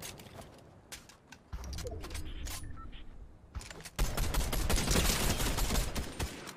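Gunfire in a Fortnite duos match: rapid volleys and sharp single shots crack out in uneven bursts, growing denser and louder in the second half into sustained firing. No voices are heard.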